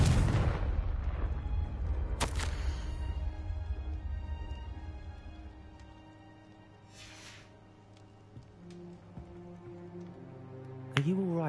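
Confringo blasting spell explosions in Hogwarts Legacy: a loud deep boom opens, then a sharp crack follows, rumbling tails fade into quieter tonal game sounds, and another sudden hit lands near the end, with a character speaking briefly.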